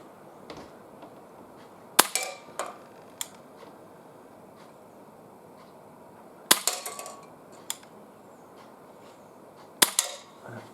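Three sharp, snappy shots from an Umarex Walther CP99 air pistol fired outdoors, spaced several seconds apart, each followed by faint metallic clicks and rattles over quiet background.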